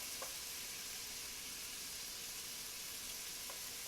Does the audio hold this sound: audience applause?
no